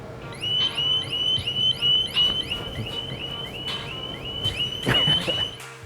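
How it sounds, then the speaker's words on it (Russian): A loud electronic motorcycle alarm on a Harley-Davidson XR1200 Sportster stunt bike cycles through warbling, rising siren tones, continuous and close, with some outdoor background noise underneath. "У мотоцикла, особенно стантового, вряд ли есть сигнализация. А у этого есть."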